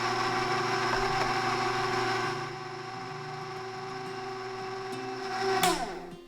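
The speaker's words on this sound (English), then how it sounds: "I'm going to gradually add my flour mixture to the mixer while it's running and let it mix until combined." A stand mixer runs steadily, mixing carrot cake batter as flour is gradually added, with a constant motor whir and hum that drops slightly partway through and ends in a brief louder rattle as it winds down.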